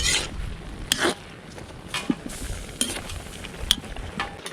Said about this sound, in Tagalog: Halo na natin siya.